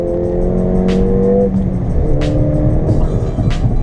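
A Ford Fiesta ST 200 is driven hard on a back road, its engine loud and droning steadily from inside the cabin with pitch shifting as it revs, shifts and pulls, with road noise and occasional clicks.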